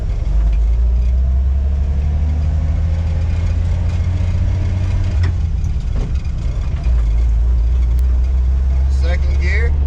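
A 1957 Chevy with a three-on-the-tree manual, neglected for five decades, drives on pavement, its engine giving a steady loud low rumble throughout with brief shifts in drone.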